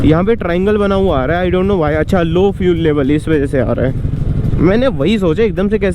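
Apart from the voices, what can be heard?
No distinct noise like a dog, phone or traffic.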